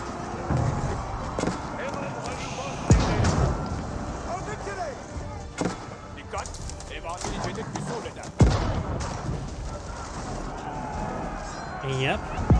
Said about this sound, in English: Carrack getting some good shore bombardment now